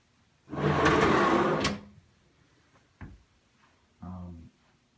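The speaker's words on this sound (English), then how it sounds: "The drawers are kind of loud." A self-closing side-mount drawer slides open with a long rumbling roll, followed by a sharp knock and another shorter sliding rumble as it closes, nearby and fairly loud.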